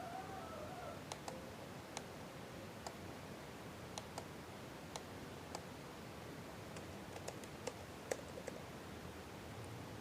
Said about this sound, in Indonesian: kemudian kita ketikkan nominalnya di kolom kredit.